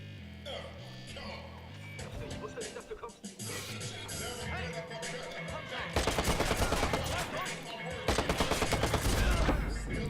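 Rapid bursts of gunfire in the video game Watch Dogs, dense repeated shots growing louder toward the end, mixed with loud music and game noise.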